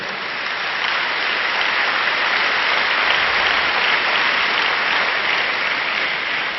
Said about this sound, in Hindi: इसलिए तालियां जरा जोरदार बजाते रहो